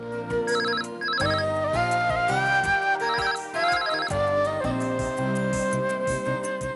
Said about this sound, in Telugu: స్వప్న ఆ ఫోన్ చూడు.